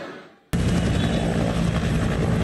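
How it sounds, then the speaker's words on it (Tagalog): Armed Forces of the Philippines helicopter flying back and forth over a residential fire in Tondo, Manila, its rotor roar cutting in abruptly and holding loud and steady, close overhead, with no talk. "Pabalik-balik ang helicopter na yan ng Armed Forces of the Philippines para sumalok ng tubig sa dagat"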